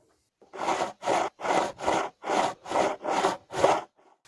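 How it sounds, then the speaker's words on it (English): A handsaw cuts through a piece of plywood, heard alone and close as eight even back-and-forth strokes, each a loud rasping burst separated by short pauses. "I cut myself a piece of plywood."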